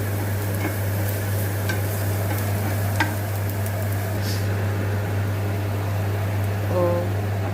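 Momo filling fries in a pan while being stirred, giving a steady sizzle with occasional scrapes and clinks over a constant low electrical hum.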